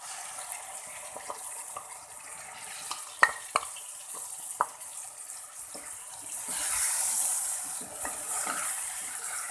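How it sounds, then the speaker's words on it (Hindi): Chopped onion frying lightly in a pan for Bharven Teende, a steady soft sizzle with occasional louder pops and stirring clicks, rising to a brighter hiss near the end. "प्याज को हल्का सा फ्राई करना है।"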